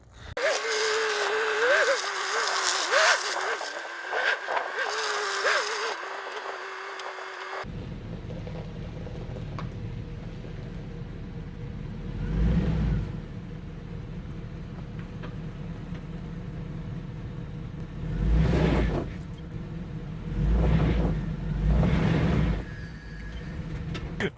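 A Hummer H2 engine rumbles low while crawling over rocks, surging in three loud revs during the second half; a louder, busier stretch of sound opens the clip.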